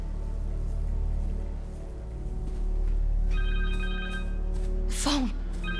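A cell phone rings in Marvel's Spider-Man 2, a repeated electronic ringtone pattern sounding over a low droning game soundscape, followed by a sharp swooshing hit near the end.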